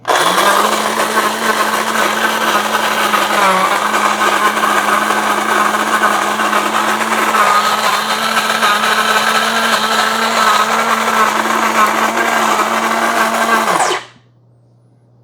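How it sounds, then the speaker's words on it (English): A Mr. Coffee automatic burr coffee grinder runs with a steady, loud whirring grind continuously for about fourteen seconds with a constant motor hum, then cuts off abruptly into silence. "We're just gonna press the start button."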